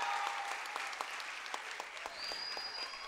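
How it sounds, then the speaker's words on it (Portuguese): Applause from the audience at the opening session of a 2022 youth parliament: a continuous wash of many hands clapping, fairly quiet and distant, with no voices over it. "A julgar pelos aplausos"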